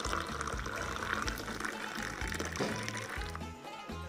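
Hot Moroccan tea pours steadily from a pot into a glass at a festive Eid morning table, a continuous liquid splash running close by over a low musical hum.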